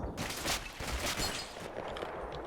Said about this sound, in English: somebody's shooting back